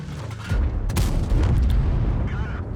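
An Object 260 tank cannon fires in World of Tanks, a couple of heavy booming blasts followed by rumbling, loud and close, with some voice faintly mixed in.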